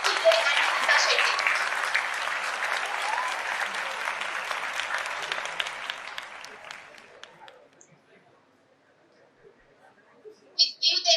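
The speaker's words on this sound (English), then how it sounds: "Please give them a huge round of applause." Audience applause for award winners at a college innovation and excellence awards ceremony, loud dense clapping for several seconds that fades to near silence, then a brief new burst of claps near the end.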